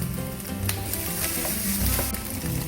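Pineapple fried rice with oyster sauce being stir-fried in a hot pan, giving a steady loud sizzle with scraping and tossing clatter from the spatula, and no voices.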